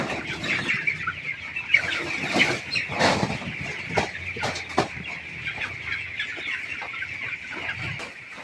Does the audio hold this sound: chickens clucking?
yes